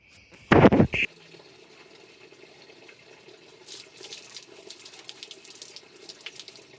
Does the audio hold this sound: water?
yes